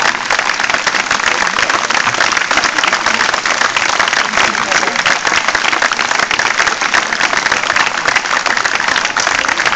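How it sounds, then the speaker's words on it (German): Sustained, dense applause from a festival crowd at Mainz Open Ohr 2011, steady and loud for the whole stretch with no pauses, heard from within the audience. "Ja, das ist jetzt Beifall für das Jugendamt."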